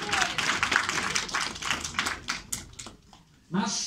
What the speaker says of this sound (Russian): Похлопаем давайте.